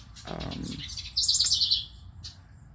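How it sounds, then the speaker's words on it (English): A loud, shrill bird chirp trills rapidly for about half a second, close by, after a brief low rustle. "It's a very loud bird."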